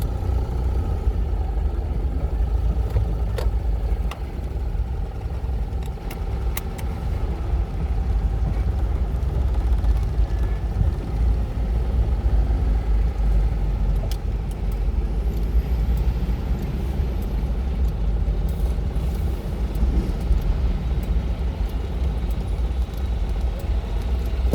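A Citroen 2CV drives through Amsterdam with a continuous low engine drone and road rumble throughout, plus occasional light rattles and clicks, with no talk.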